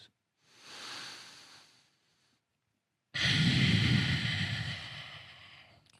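Slow deep breathing during a yoga-style warm-up: a soft drawn-out inhale, a pause of silence, then a louder, longer breathy exhale close to the mic.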